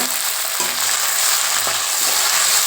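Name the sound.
tomato and onion sautéing in pan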